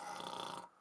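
A voice imitates a dragon snoring through a kazoo: one short, buzzing, nasal drone held close and loud, then cut off abruptly.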